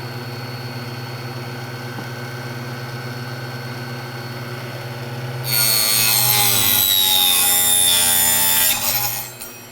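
Hand saw cutting small wood pieces for a 1/24 scale model building, a Kleine Scheidegg replica. Several seconds of close, rapid, rasping strokes come in loud over a quiet background hum, then stop.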